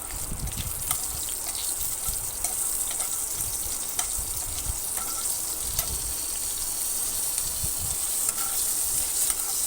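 Bengali five-spice and green chillies fry in a pan with a steady close sizzle, punctuated by faint scraping taps of a spatula now and then.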